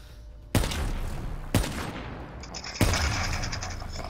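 Gunfire from a trick shot in the video game Black Ops 3: three loud, sharp shots spaced about a second apart, each with a ringing tail, close and clear with no talk.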